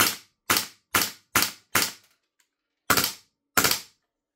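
A Lambda Defence B&T GHM9-G gas blowback airsoft gun fired in semi-auto, seven loud sharp cracks: five in quick succession, a pause, then two more, each with a brief decay.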